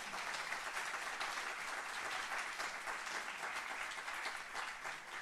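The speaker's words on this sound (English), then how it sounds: "I think that deserves a round of applause." An audience applauds at a talk event for EMILY's List, a dense, even wash of clapping from many hands sustained for several seconds at a steady, moderate level, without voices over it.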